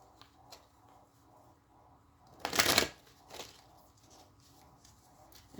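A deck of tarot cards shuffled by hand below a table, with a quiet riffling rustle and one loud burst of shuffling in the middle, close and alone.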